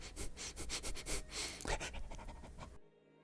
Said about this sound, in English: It lowers its ears and begins to sniff the air.